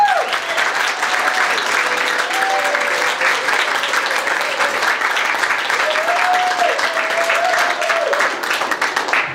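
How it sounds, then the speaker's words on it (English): An audience at a graduate creative writing reading gives a sustained round of applause for graduates' family and friends, dense and steady clapping throughout with a voice faintly audible over it. "a really big round of applause for those here tonight and those in spirit for the family and friends of the graduates"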